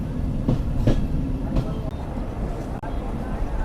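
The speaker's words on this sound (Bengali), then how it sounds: "ট্রেন প্রবেশ করছে নাচল রেলওয়ে স্টেশনে" A commuter train enters Nachol railway station in Bangladesh with heavy rumble and periodic wheel clacks over the joints, close and steady, with some background chatter.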